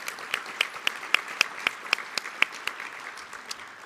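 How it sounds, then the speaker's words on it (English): Audience applause at a civic community event honoring local mayors, a steady wash of clapping with sharp individual claps popping out, fading slightly toward the end. "So a big round of applause for Abdullah H. Hammoud and Bill Bazzi"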